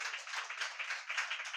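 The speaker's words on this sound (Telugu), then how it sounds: "చప్పట్లు కొట్టి ప్రభువుని మహింపరచండి." A church congregation claps hands in praise: steady, continuous applause from many people, heard alone without speech.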